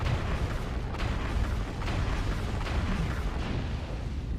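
Particle projector cannon shots from a mech in MechWarrior Online, several heavy energy blasts bursting in quick succession over a constant loud mechanical rumble, with no voices.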